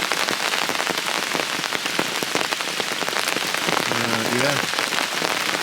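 Heavy rain pours steadily over a carp fishing pool, a dense, continuous hiss of drops hitting water and surfaces, with a brief voice speaking under it near the end.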